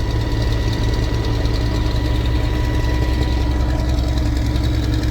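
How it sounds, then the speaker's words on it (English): Steady, close engine idle from a tractor during sugar beet harvest, a low droning rumble with a faint rhythmic knock running evenly and alone throughout. "this cold-blooded tractor, there's something in the feel of this thing"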